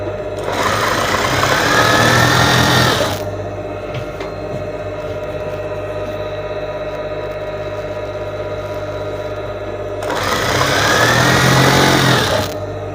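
An electric sewing machine stitching a casing seam into curtain fabric runs in two loud whirring bursts of about three seconds each, separated by a quieter stretch of low motor hum.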